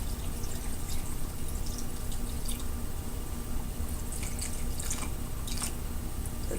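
Cold water, about one and a half cups, poured into a blender with frozen organic mango for a smoothie, giving a faint, steady trickle with scattered drips and splashes, no talking.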